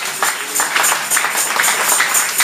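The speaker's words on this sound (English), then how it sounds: "Clap for Jesus" A church congregation claps for Jesus during an anointing service, a dense, loud, continuous crowd applause with many overlapping hands throughout.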